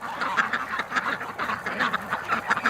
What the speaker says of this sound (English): there are so many cute ducks, like so many, man